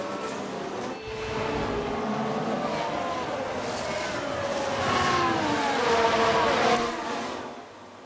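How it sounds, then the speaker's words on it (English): Race cars roar in the F1 Manager 2022 racing game, a continuous, loud, high engine whine with pitch sweeps that swells toward the end before easing off. "It's a crash! Let's see what happened there."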